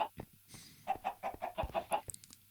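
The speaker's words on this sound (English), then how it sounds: "I put a cage with a bunch of chickens inside of it over lava" Chickens penned in a cage in Minecraft cluck in a quick run of short, nasal calls, fairly quiet and close, with a brief gap before the series starts.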